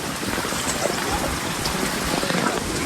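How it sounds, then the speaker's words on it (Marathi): Heavy rain falls on a fog-bound trek at Tringalwadi fort, a dense, steady hiss of downpour with scattered raindrop patter, continuous and fairly loud throughout. "पाऊस तर खूप म्हणजे खूप आहे इथे"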